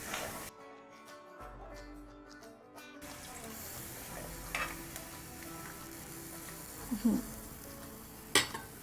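Water poured into a hot pan of sizzling spices while cooking Malvani Konkani futi kadhi, a sharp hiss and bubbling that settles into steady sizzle, with a few clinks near the end.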